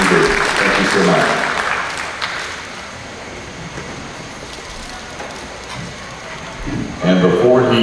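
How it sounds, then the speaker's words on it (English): Applause from the crowd around the ring at a national goat show, a broad hiss of clapping that slowly fades, then a voice speaking over a public-address system. "Give them a round of applause, guys."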